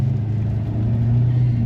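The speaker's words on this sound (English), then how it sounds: "We got that old rusty truck going." Old rusty truck engine with a freshly welded frame idling steadily nearby, a continuous low rumble with a slight rise in level partway through, no talking.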